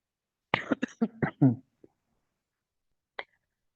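A short burst of close, dry coughs, then silence and one more brief cough.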